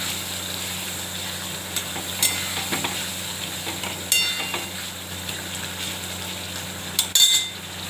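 Fish sautéing in mustard paste with turmeric in a pan, a steady soft sizzle with scattered spoon scrapes and clinks, two louder stirring bursts near the end.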